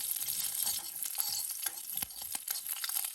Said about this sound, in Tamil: கருவேப்பிலை போட்டு இதை கொஞ்சம் வதக்கி எடுத்துக்கணும்